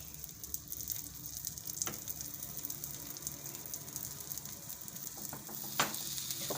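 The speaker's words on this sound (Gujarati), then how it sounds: "હવે આપણે આને સરસથી આ રીતે તેલમાં શેકી લેવાના." Bottle gourd palita roasting in a thin coat of oil in a pan over low gas, giving a steady soft sizzle with faint scraping stirs and a couple of brief clinks, close and continuous with no talking.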